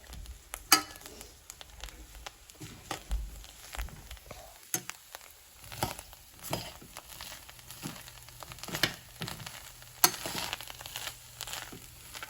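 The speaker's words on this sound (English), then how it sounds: "So now we are adding the mawa to the gujia masala, and now we will be mixing it." Mawa stirred into gujia masala in a pan, a soft continuous scraping and sizzling with scattered crinkly clicks and a few sharper knocks of the spoon, close and steady with no voices.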